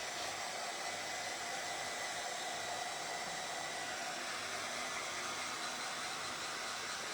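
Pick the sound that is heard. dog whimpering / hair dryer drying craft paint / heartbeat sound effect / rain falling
hair dryer drying craft paint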